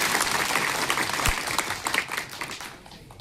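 An audience at a jail camp event claps loudly for about three seconds, a dense burst of hands that thins and fades toward the end.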